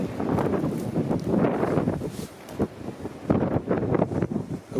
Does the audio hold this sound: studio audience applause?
no